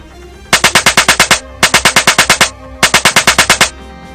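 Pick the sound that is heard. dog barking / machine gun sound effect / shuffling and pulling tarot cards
machine gun sound effect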